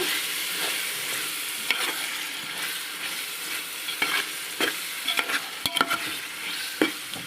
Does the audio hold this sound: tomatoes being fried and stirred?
yes